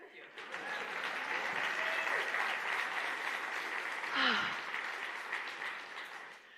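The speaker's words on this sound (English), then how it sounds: "A hand of applause for the musicians for that song." An audience applauds musicians after a song at a church service, steady sustained clapping from a crowd filling the room, briefly swelling louder near the end with a voice speaking over it.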